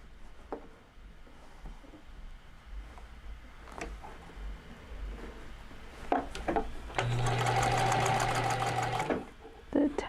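A sewing machine stitching a seam after its top tension is tightened: scattered handling clicks and rubs, then a steady loud whirring run of stitching for about two seconds before it stops.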